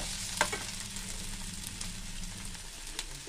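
Chopped onions and tomatoes frying in a pan for a manchurian dish, a steady close sizzle with a brief clatter of stirring near the start.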